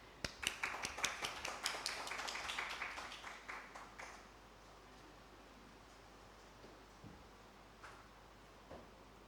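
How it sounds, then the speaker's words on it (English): Audience applause welcoming a speaker at a University of Lahore session: a burst of dense clapping that rises fast, holds for about four seconds, then thins to a few scattered claps, heard from a distance in a large room. "So please, with the big applause, I'm inviting Dr. Atikur Rahman Sahab"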